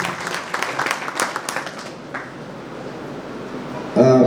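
Brief applause from a wedding audience at a community mass wedding ceremony in Upleta, a short burst of claps that thins out quickly under faint background noise.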